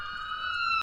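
A police siren in the Santa Claus video game wails steadily with a sustained electronic tone. It holds loud and even for under a second, then cuts off abruptly.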